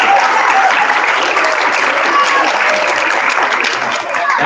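Audience applause with cheering fills a school assembly for a Sister City team, a dense, steady wash of clapping held at full level throughout and fading slightly near the end.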